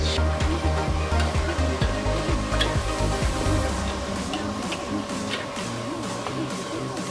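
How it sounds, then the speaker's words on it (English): Hokkien Mee noodles sizzle and crackle in a wok over a charcoal stove in Klang, Malaysia, with rhythmic scraping and clanking of a metal utensil stirring over a steady roar. "the boss who is frying his Hokkien Mee in charcoal fire or charcoal stove"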